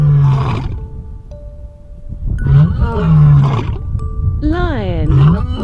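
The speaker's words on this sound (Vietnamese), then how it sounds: "Lion," A lion roars in a children's animal-name lesson, the deep, rough calls coming in several loud bursts mixed with a voice speaking between and over them.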